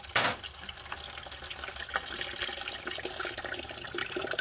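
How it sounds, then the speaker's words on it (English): Coolant pours from the radiator of a Suzuki SV650 motorcycle in a steady, close liquid stream, beginning with a brief splash and then continuing as a soft, even gush and trickle. "When I open the radiator cap, however, we're going to get a stream."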